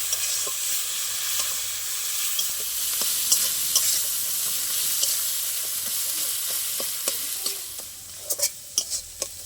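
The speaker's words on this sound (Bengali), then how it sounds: "আমি দিয়ে দেবো এবার হলুদ গুঁড়ো তারপরে মশলাটা একটু কষিয়ে নেবো" Spice paste of ground chilli and turmeric sautés in oil for a fish curry, a bright continuous sizzle with stirring scrapes and a few sharp spatula taps near the end.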